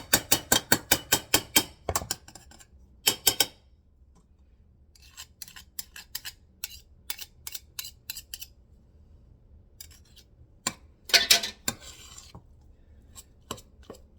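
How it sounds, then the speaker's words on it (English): A spoon works through a Hungarian fasirt meatball mixture with butter, salt and sour cream in a bowl, giving quick rhythmic scraping strokes in bursts with pauses between them. Close and fairly loud, with no speech. "And mix it well. Let the butter incorporate."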